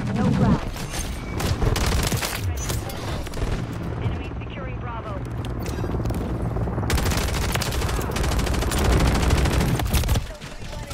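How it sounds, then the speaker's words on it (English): Loud, dense gunfire rattles in Modern Warfare 3, with bursts of automatic fire, sharp cracks and booms running nearly the whole time. A player talks over the shooting, and it drops off abruptly near the end. "I'm getting shot up bad now"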